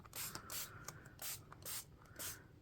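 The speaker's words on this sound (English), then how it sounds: "I'm going to spray around the edges" Several short hissing bursts of a spray bottle spraying coffee onto paper, close and fairly quiet, in an uneven rhythm with brief pauses between sprays.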